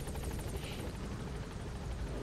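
A helicopter in Metal Gear Solid V The Phantom Pain thrums with a loud, steady rotor wash, a dense rumbling roar that holds evenly throughout without pause.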